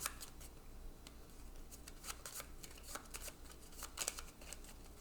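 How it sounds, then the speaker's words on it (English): Deck of cards being shuffled during a solo tabletop game, a steady run of soft riffling and snapping bursts lasting several seconds, fairly quiet with no talk. "I need to shuffle and start again"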